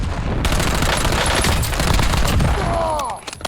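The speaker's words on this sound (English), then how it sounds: "New LC10 unsilenced shots if they get run up on." Rapid unsilenced LC10 bursts ring out in a Call of Duty Warzone match, loud dense gunfire running nearly continuously for about three seconds before tapering into a few scattered shots.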